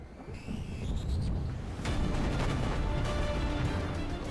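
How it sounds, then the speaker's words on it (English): Cleveland-class naval cruisers firing on the cruiser Sendai: heavy booming gun blasts rolling into a continuous low rumble, loud and without voices. "This is when the Clevelands opened fire at cruiser Sendai."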